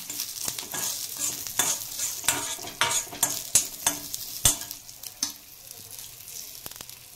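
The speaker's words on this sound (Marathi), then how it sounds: "त्याच्यामध्ये आपण अद्रक, लसूण आणि खोबरं भाजून घ्यायचं" Ginger, garlic and coconut roasting in a pan for a chana masala curry, sizzling steadily while a utensil stirs and scrapes in loud, repeated strokes, close and without talk.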